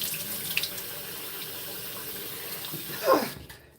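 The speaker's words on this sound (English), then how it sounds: "So I bathe my face in ice cold water." Ice-cold tap water runs steadily into a bathroom sink during a morning face-washing routine, a close, continuous splashing rush that rises in a brief splash near the end before cutting off, with no talking.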